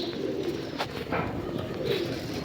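A pigeon coos softly close by over a steady background hiss, a brief low murmuring call with no voices.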